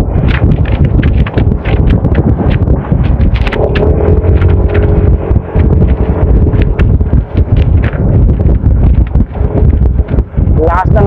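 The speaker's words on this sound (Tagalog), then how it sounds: "Lakas ng hangin ha, grabe." Strong wind buffets the microphone in a constant loud roar, with people talking and clattering sounds underneath.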